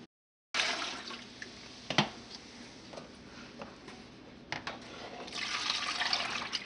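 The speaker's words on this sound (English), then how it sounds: "I'm going to pour all the stock into the pot" Gumbo stock poured into a pot, a steady liquid splash and gurgle running for several seconds after a silent start, with a few sharp knocks and a rising rush near the end.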